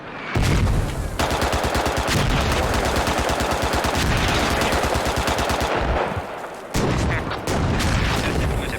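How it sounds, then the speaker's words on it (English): A Warrior armoured vehicle in a multiplayer combat video game fires its gun in loud, rapid, rhythmic bursts of automatic fire, with booming impacts and a brief pause before the shooting resumes. "Warrior just firing for his life now."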